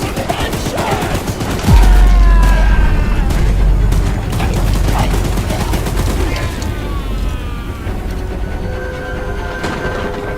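A mounted gun fires in Choo-Choo Charles, a horror game with a monstrous train, in dense rapid bursts with heavy low booms, loud and close, amid rumbling game noise and shouting voices.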